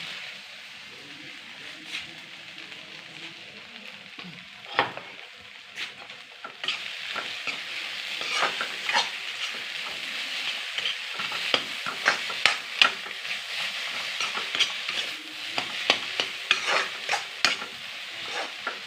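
Spices fry and sizzle in a pan for a potato and cauliflower dum, under repeated close scraping stirs that grow busier as cooking goes on.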